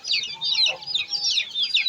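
Small young chickens at a rural home clucking and peeping, a close run of quick high chirping calls repeating in uneven bursts, with no talk.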